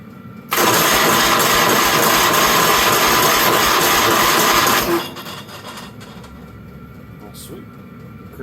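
Engine of a Wheel Horse 520H garden tractor that sat unused for years, cranking over with a loud steady whir for about four seconds, then cutting off to quiet handling noises.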